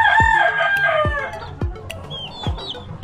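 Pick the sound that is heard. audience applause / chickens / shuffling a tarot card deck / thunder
chickens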